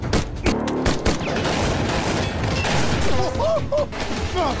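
Gunfire exchange in an action film as troops attack, with bursts of shots and booms over a dense, busy soundtrack, continuous and loud throughout, with some voices mixed in.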